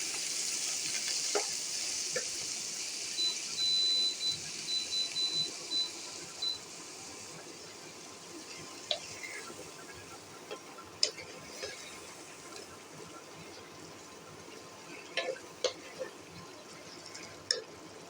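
Pumpkin greens frying with cumin seeds in a pan, giving a steady soft sizzle with scattered clinks and scrapes of stirring, fairly quiet and without talk.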